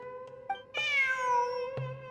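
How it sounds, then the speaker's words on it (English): A cat in Genshin Impact gives one clear, drawn-out meow, preceded by a few soft ticks, heard alone over a quiet game background. "Oh, a cat."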